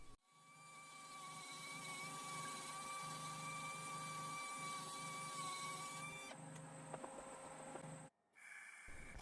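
A power grinder works steadily on a crack in a metal oil pan, giving a continuous whining hum at moderate distance with a brief break near the end before it starts again.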